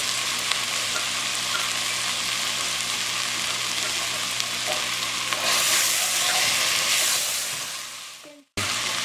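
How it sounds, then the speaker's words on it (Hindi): Mutton frying in a pot with salt and whole and chopped green chillies, a loud steady sizzle with stirring, swelling briefly before cutting off abruptly near the end. "गोश्त हमारा भून गया।"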